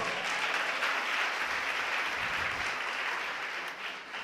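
Church congregation applauding during a sermon, a dense, steady wash of clapping from many hands that holds for several seconds and tapers slightly at the end.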